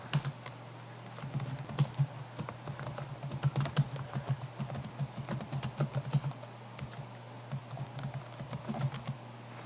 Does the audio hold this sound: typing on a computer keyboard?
yes